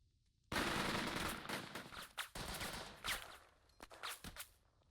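Gunfire in the tactical war game Burden of Command: a sudden burst of rapid machine-gun fire opens loud and sustained, then breaks into scattered shorter volleys and single shots.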